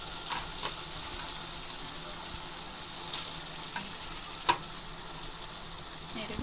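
Chicken pieces going into a pan of sizzling fried spices, a low steady frying hiss with occasional stirring knocks and one sharp clink, fairly faint and without speech.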